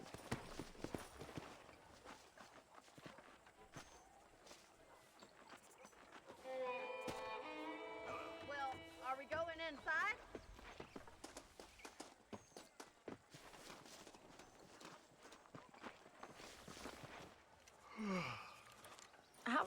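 Horse hooves clip-clop at a steady walking rhythm in the video game Red Dead Redemption, faint and continuous beneath game music and brief vocal sounds.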